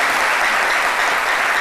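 A studio audience on a midday French television show breaks into loud, dense applause, a close, continuous roar of clapping with no gaps.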